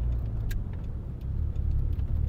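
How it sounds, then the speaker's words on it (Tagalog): A Mitsubishi Eclipse with a misfiring engine, heard from inside while it drives: a steady low engine drone with slight uneven pulsing, and no talk. "Ayan, lakas ang misfire niya"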